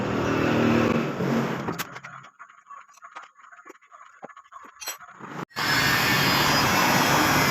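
A Honda CB150R motorcycle engine with heavy fuel consumption revs loudly up close, then drops to an uneven, sputtering idle with popping misfires before roaring back up.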